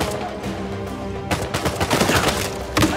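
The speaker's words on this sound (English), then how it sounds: "It's a grenade launcher!" Gunfire and a grenade launcher in Uncharted 4 erupt as a burst of loud, rapid overlapping shots and blasts, starting after a quieter moment and continuing densely to the end.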